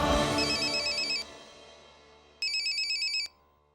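A telephone rings loudly in a Hindi TV drama, with a burst of electronic trilling, a pause where the ring fades, then a second ringing burst that stops abruptly.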